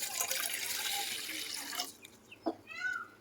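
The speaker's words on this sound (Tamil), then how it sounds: "இப்போது ஒரு பாத்திரத்தில் வந்து நான் ஒரு டம்ளர் வந்து தண்ணி ஊற்றிக்கிறேன்" Water poured from a tumbler into a cooking pot while making coconut burfi, a steady close splashing pour that cuts off partway, followed by a few faint drips and light clinks.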